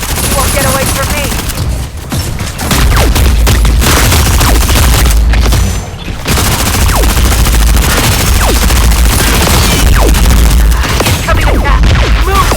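Missile impacts and gunfire in the Hurricane video game on Vita: dense, loud machine-gun fire with heavy booming explosions running nearly nonstop, briefly dipping twice.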